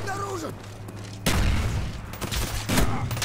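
Gunfire in Call of Duty Black Ops: a loud burst of rapid shots cuts in mid-clip over game ambience, then another burst follows near the end.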